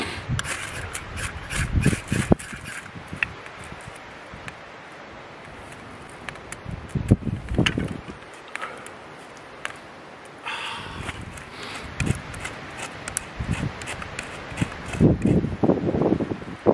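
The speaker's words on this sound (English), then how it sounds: "Very windy today" Wind blowing outdoors over a microphone on a gusty day while birch bark is scraped nearby, a continuous rushing with buffeting swells, mixed with rustling and nearby handling noises.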